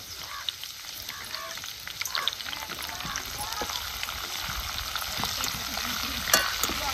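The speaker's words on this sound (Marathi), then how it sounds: "कढीपत्ता नेहमी तेलात टाकला की तडतड वाजतो" Curry leaves crackling and roasting in hot oil for village-style bhadang chivda, a dense continuous sizzle with scattered sharp pops, close and steady, with no talking.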